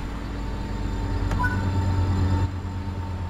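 An EMD F125 passenger locomotive in Train Sim World 4 runs on the Antelope Valley Line, a loud steady diesel drone with deep rumble and a droning engine tone, a brief click midway and a slight drop near the end, no speech.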